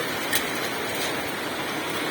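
Heavy rain roars in a dense, steady wash with faint pelting hits of hail falling with the downpour, in North 24 Parganas.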